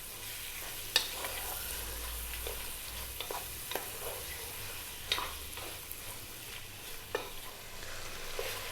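Beef sears in a pan over high heat for a biryani, a constant crackling sizzle with frequent sharp stirring scrapes and taps, close and unaccompanied by speech.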